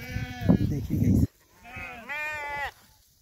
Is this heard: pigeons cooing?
no